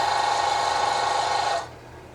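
A Baby Lock Jane straight-stitch sewing machine runs fast while stitching binding onto a quilt, giving a steady high-speed whir that stops abruptly near the end, leaving a quiet hum.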